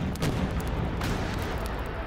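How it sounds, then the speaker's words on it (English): Cannons in the game Craftventure fire in a rapid barrage, a continuous loud rumble of overlapping booms with a few sharper blasts standing out, no talk over it. "Please fire every cannonball we have."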